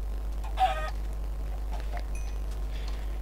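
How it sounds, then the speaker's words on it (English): A chicken in the Minecraft video game gives a short cluck over a steady low hum, with a few fainter clucks after it and no talking. "Chicken."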